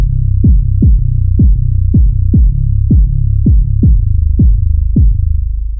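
A deep 808 bass sample in FL Studio, produced as a hip-hop beat element, thumps loud and close in a steady run of about ten booming hits whose pitch drops quickly on each strike, with no voices.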